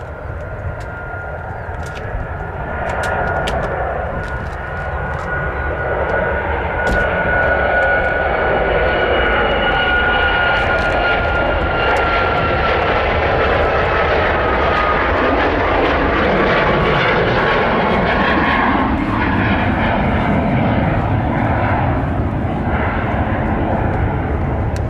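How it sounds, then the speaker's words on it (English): American and Canadian jet airliners take off together at Nashville International Airport, a loud sustained engine roar building and holding for the whole stretch, with faint distant clicks on top and no talk. "So we got an American and a Canadian taking off,"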